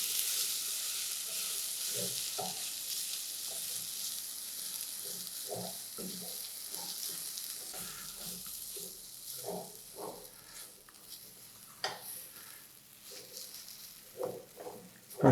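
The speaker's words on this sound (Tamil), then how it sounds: "இது கொஞ்சம் அப்படியே வதக்கிட்டேன்." Ground spice paste for urundai kuzhambu sautéing in a pan, a steady close sizzle with occasional stirring scrapes and small crackles throughout, no talking.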